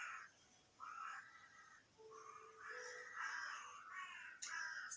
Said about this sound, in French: C'est la fanfare des corbeaux devant chez moi.